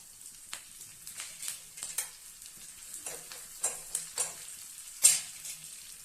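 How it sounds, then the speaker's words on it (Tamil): Grated ginger, green chili and curry leaves fry in a pan with a soft, steady sizzle, broken by quick bursts of stirring and faint clinks of a spoon against the metal. "இஞ்சி துருவலையும் சேர்க்குறேன். ஒரு பச்சை மிளகாய் இதையும் சேர்க்குறேன். கருவேப்பிலை ஒரு கொத்து சேர்க்குறேன்."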